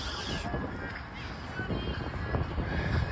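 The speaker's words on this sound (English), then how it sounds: "It's really windy" Wind buffets a microphone outdoors at an ultimate frisbee tournament, a loud, steady low rumble with gusty swells that fills the whole moment.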